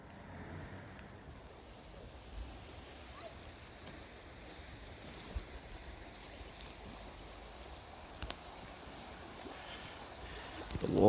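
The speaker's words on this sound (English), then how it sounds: "The water is moving very fast" Fast-flowing water rushes continuously in the distance in a forest during a storm, a faint, steady broadband wash with a few soft clicks and knocks near the end.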